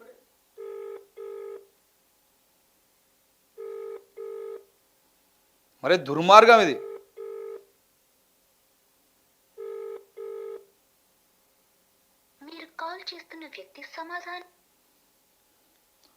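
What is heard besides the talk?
telephone ringing, call not answered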